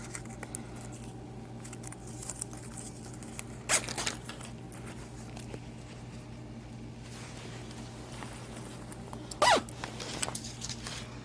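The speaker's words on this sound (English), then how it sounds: "I'm going to have to unzip this zipper." Quiet room with a low hum; a zipper is worked in short bursts, a brief rasp early and a sharper zip near the end.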